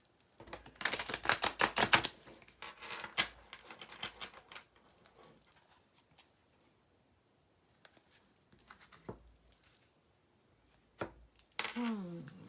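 Rapid, fluttering riffles of tarot cards being shuffled come in bursts, with quieter pauses and a brief voice near the end.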